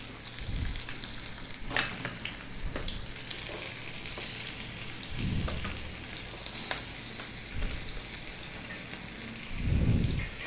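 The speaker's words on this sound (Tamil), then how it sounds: "இப்போ வெங்காயத்தை போட்டுக்குவோம்" Onions hiss and sizzle steadily in hot oil where mustard seeds have just popped, with a few soft stirring knocks under the continuous frying noise.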